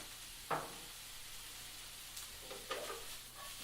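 Omelet ingredients sauté in a pan over high heat, giving a soft, steady sizzle with a few brief scraping clicks of a utensil, faint and close, with no voices.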